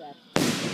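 A firework shoots up into the sky, a sudden loud burst that holds as a bright crackling hiss after a quiet pause, close by.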